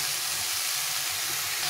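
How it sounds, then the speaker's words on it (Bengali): Spices and ridge gourd fry in a pan with a steady, dense sizzle and hiss that holds at an even loudness throughout, close and with no voices. "একটু ভাজা ভাজা মানে মশলাটাকে একটু ভেজে নিতে হবে"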